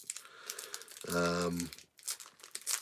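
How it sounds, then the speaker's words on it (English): A foil trading card pack, a Mars Attacks super-wide card pack, tears open with a short crinkly rip and crumple of foil, close and moderately loud, between quiet stretches of handling noise. "Alright, we're going to rip this shit."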